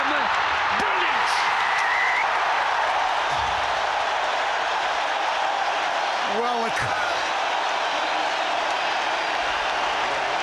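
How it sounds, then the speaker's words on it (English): Roaring stadium crowd at a New Zealand versus Australia Bledisloe Cup rugby test, a loud, continuous wall of cheering with horns and whistles rising above it, while a commentator briefly speaks over the din. "the crowd say it all. There's so much noise here. I can't hear my own voice"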